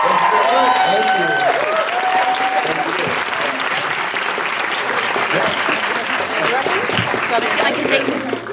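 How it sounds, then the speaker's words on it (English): A crowd applauds guests at a university society medal event, loud dense clapping with some cheering that holds steady throughout, while voices speak over it at the start. "Round of applause, guys, and if you could stay seated."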